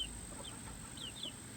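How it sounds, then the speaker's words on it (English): Young mixed barnyard chickens, poults about six or seven weeks old, give soft scattered clucks and peeps over a quiet outdoor hum, fairly faint with no voices. "they're sweet little chickens"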